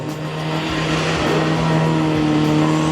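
A Mini engine drones steadily and loudly, holding a constant pitch as it circles in reverse donuts at a Mini show at the British Motor Museum, with faint crowd noise and talk in the background.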